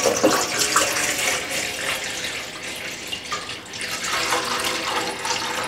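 Yanang leaf juice for a Thai bamboo shoot curry is poured into a pot, giving a steady, fairly loud splashing pour throughout with no talk.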